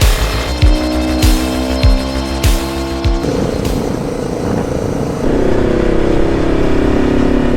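A loud three-wheeled motorcycle engine revs and drones nearby, with rhythmic surges early on, then a steady, shifting engine roar as it drives.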